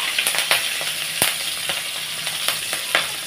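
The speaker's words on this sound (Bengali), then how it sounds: "লঙ্কাটা দিয়ে দেব তেলের মধ্যে।" Green chili dropped into hot frying oil for an Indian-style hilsa fish dish, sizzling steadily with sharp crackling pops and spatters scattered throughout, close and fairly loud with no talking.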